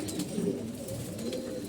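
Old racing pigeons of a traditional breed coo in a continuous low, throaty murmur, close and moderately loud, with no voices.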